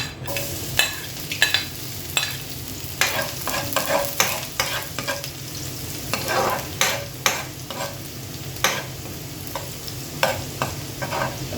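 Garlic frying and sizzling in a pan, with a steady hiss broken by repeated sharp scraping stirs of a utensil against the pan.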